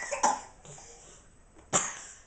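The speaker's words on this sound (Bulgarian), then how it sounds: "Кой кашля?" A person coughs twice indoors, one sharp cough near the start and another about a second and a half later, close by with quiet room noise between.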